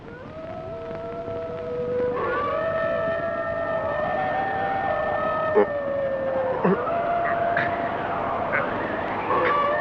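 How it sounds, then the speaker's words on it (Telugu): Jackals howl at night near a fort, several wailing, siren-like voices rising and overlapping in long sustained cries with a few sharper yelps, steady and fairly loud throughout with no speech. "నక్కలు కూస్తున్నట్టున్నాయి."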